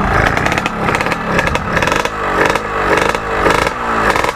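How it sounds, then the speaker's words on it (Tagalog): A Yamaha RXT135 drag race bike revs hard up close, its two-stroke engine screaming in repeated throttle bursts with rising and falling pitch and mechanical clatter. "Ganyan na nagpapandar ng race bike"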